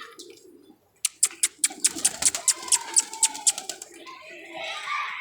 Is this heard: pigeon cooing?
yes